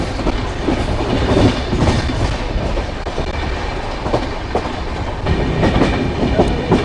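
A train runs on rails on approach to Sanewal station, giving a loud, continuous rumble with rhythmic clickety-clack of the wheels, heard from on board without speech.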